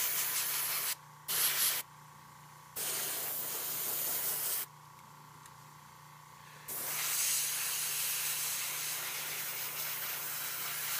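An airbrush sprays paint onto a miniature Hive Tyrant model in a steady close hiss, cut by a few short pauses and trigger changes.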